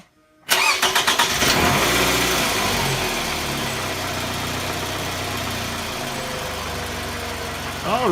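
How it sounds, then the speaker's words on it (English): A car engine cranks and catches after a jump start from a Mucar 2-in-1 jump starter, then settles into a steady idle; the sound is close, loud at the start and even afterwards. "It jump-started a dead battery without any trouble whatsoever."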